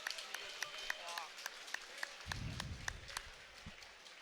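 Sparse applause from a small crowd at a combat sports fight night, with steady individual claps and a voice speaking over them midway.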